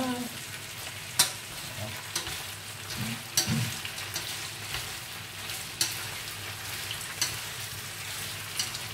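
Large fresh lagoon shrimp stir-fry in a pan, giving a steady hiss and sizzle with sharp scraping clacks of stirring at irregular intervals, close and fairly quiet, with no talk over it.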